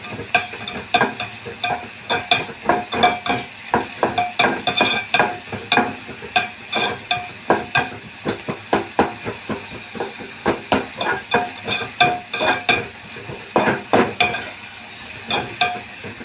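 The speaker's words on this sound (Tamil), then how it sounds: "இது நல்லா வதக்கி விடலாம் நல்லா வதங்கி அந்த பச்சை வாசனை போகட்டும்" Ingredients for peanut chutney being sautéed in a pan, with rhythmic, repeated stirring strokes scraping and clanking against the metal over a constant frying sizzle, loud and close for the whole stretch.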